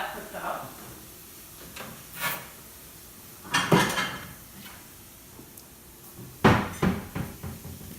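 In a home kitchen, a cupboard door opens and closes and a bowl is taken out, with clunks and rattles of dishware in a few distinct bursts while a person speaks.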